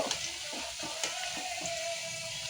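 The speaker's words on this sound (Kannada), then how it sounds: "ಚೆನ್ನಾಗಿ ಗೋಲ್ಡನ್ ಕಲರ್ ಆಗೋವರೆಗೂ ಫ್ರೈ ಆಗಬೇಕು" Potato chips fry in hot oil in a home kitchen, making a faint, continuous bubbling sizzle with no voices present.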